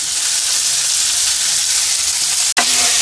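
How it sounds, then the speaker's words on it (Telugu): Bommidala fish shallow frying in a pan gives a loud, steady sizzle and hiss that runs throughout, broken once by a brief sharp click before the sizzling resumes. "Shallow fry. ఇది డీప్ ఫ్రై చేయడానికి రాదండి."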